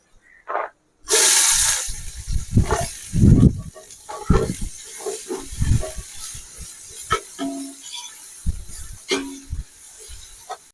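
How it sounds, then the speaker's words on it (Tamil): Onions dropped into hot oil with cinnamon and cloves for mutton nonbu kanji, giving a steady sizzle and hiss broken by clinks and stirring knocks, close and fairly loud, with no talking. "எண்ணெய் ஊற்றிட்டு பட்டை கிராம்பு போடணும் அடுத்தது நம்ம வெங்காயத்தை போடுறோம்"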